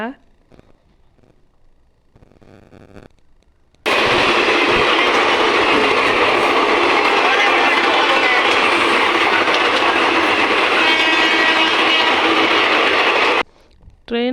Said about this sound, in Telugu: ఇంతలో మా ట్రైన్ అయితే వచ్చేసిందనమాట